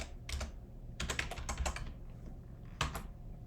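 Fingers tapping out a short word on a computer keyboard, a few quick clustered keystrokes with brief pauses between them, close and fairly quiet.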